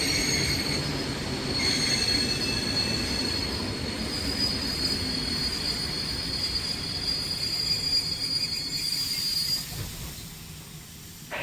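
A train passes through Torņkalns railway station in Riga, its wheels squealing loudly against the rails with steady rumbling and clatter that tapers off near the end; no voices.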